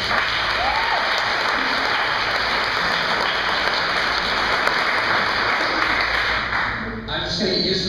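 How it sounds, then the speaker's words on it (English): An audience at an indoor talk on service dogs gives a presenter steady, sustained applause, close and even for most of the clip before easing off as a voice begins at the end. "So give him a round of applause."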